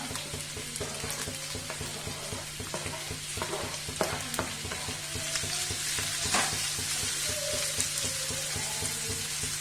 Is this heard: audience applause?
no